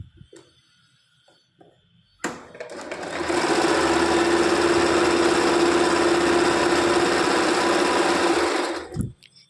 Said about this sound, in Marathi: खाली पाव इंचावरती स्टिच टाकायची.